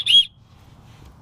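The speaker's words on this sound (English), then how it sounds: "it also has a whistle. It's actually really loud." A loud survival kit whistle gives one short, shrill, high blast, then faint background hiss follows.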